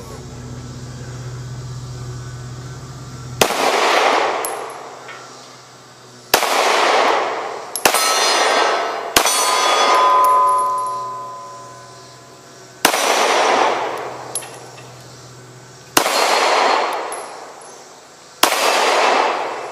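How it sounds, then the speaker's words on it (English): A Luger pistol fires one-handed, eight loud sharp shots spaced a couple of seconds apart, each with a ringing outdoor decay, heard alone and close. "Let's shoot it one-handed, since it's really designed that way."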